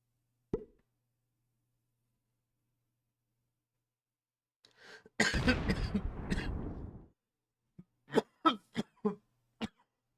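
A single cough bursts out loud and close for about two seconds amid a quiet stretch, with a faint pop beforehand and several short clicks or throat sounds trailing after.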